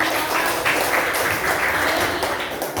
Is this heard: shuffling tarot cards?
no